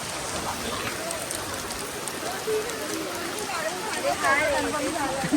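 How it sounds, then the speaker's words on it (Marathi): Steady rain pours down in a dense, even hiss, with faint voices and movement murmuring underneath. "पाऊस पडायला लागला"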